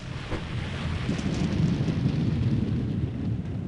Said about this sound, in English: That storm is so loud.